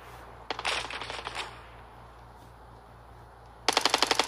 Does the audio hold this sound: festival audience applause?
no